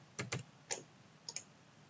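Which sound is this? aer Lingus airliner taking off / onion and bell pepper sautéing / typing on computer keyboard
typing on computer keyboard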